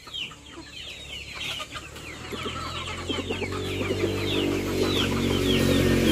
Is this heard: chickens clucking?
yes